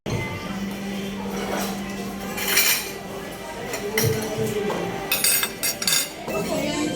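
Dishes and cutlery clink while people eat at PAMI, a restaurant, with scattered bright clinks of spoons and plates over a murmuring room and nearby voices talking.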